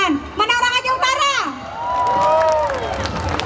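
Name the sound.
audience applauding and cheering at Seudati Aceh dance performance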